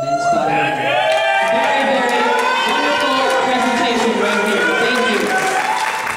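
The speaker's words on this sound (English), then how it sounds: "Another round of applause for them" An audience at a men's bodybuilding posedown claps and cheers steadily, with whoops and shouts rising over sustained applause.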